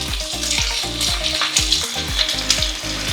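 Chopped onion, cabbage and green chillies sizzle in hot oil for street-style egg noodles, a loud steady frying hiss broken by repeated rhythmic clanks of a spatula against the pan, with no talking.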